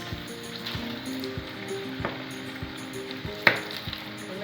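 Beef samosas deep frying in hot oil, a steady bubbling sizzle with a low hum running underneath and a sharp clink near the end; no voices are heard.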